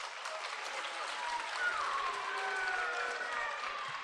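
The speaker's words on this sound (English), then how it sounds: "Everybody give him a round of applause." A school auditorium audience applauds, a steady roomful of clapping heard at moderate distance, with faint voices and a few tonal sounds threaded through it.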